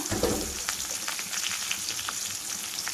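Crushed curry leaves fry in hot oil, giving a soft, steady sizzle with scattered small crackles and pops, close but fairly quiet, with no voices over it.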